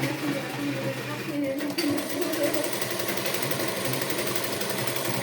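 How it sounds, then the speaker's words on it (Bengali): Sewing machine stitching a churidar neckline, a steady fast mechanical whir and rattle running nonstop at close range, with a brief pause in the middle. "এইভাবে জয়েন করে তোমাকে সেলাই করে নিতে হবে পুরটা।"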